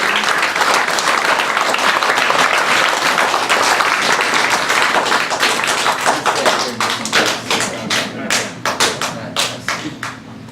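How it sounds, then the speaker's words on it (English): Audience applause at an Eagle Scout ceremony, a dense, loud burst of many hands clapping that thins out toward the end into scattered individual claps. "Give yourselves a round of applause."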